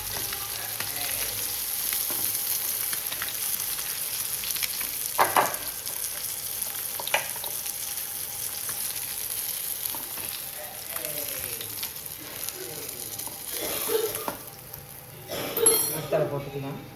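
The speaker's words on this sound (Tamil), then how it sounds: "மீன் பொரிஞ்சிட்டு மீன் பொரிஞ்சிட்டு எடுத்துக்கலாம்" Fish fries in hot oil with a constant soft sizzle, broken by occasional clinks and scrapes of a utensil against the pan, while a person talks nearby.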